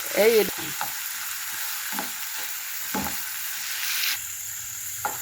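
Cottage pie filling sautéing in a pan in a village kitchen, a constant close crackling sizzle with a few scattered stirring scrapes, easing to a softer hiss toward the end.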